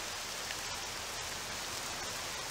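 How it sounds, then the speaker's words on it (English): Steady rain falling in the video game Octopath Traveler 2, a dense, even hiss of drops on surfaces that holds constant and fairly soft throughout with no voices. "It's the rain."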